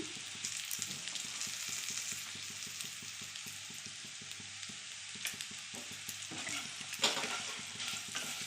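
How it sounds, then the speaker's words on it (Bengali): Bitter gourd frying in a pan with salt and turmeric gives a steady close sizzle, with repeated scraping stir strokes throughout and a sharper clatter near the end. "এর একটু নুন আর হলুদ দিয়ে আর একটুখানি ভাজবো।"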